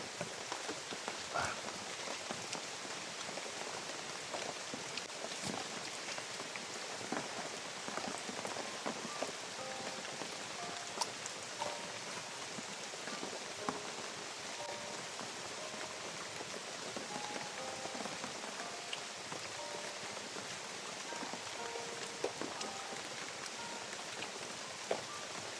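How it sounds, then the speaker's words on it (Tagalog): Heavy rain pours steadily over an outdoor setting, a dense continuous hiss of drops drumming on surfaces with scattered louder splatters, loud and close throughout with no voices. "Lakas ng ulan guys."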